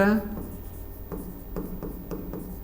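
Handwriting strokes during a class, a series of short scratchy pen or chalk marks in a steady rhythm following a brief burst of a voice.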